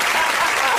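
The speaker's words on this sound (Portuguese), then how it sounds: "Bate palmas." Dense, steady applause from an audience fills the moment, loud and close, with a voice faintly under it.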